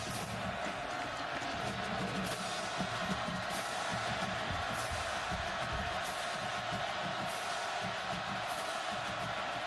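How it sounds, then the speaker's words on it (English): Stadium crowd at a college football game between TCU and Oklahoma, a steady, dense roar of fans cheering for the Oklahoma defense, continuous and far-off with no clear peaks. "Crowd back into it for the Oklahoma defense"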